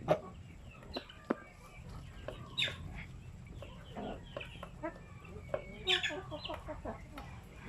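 Native chickens cluck and chatter in short, scattered calls around fresh mixed feed, some near and sharp, others softer in the background, with faint farmyard noise between them.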